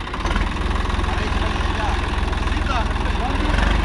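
Swaraj 855 FE tractor running with a 7-foot rotavator, a steady, loud low diesel throb with rhythmic pulsing and a faint clatter on top, close and continuous.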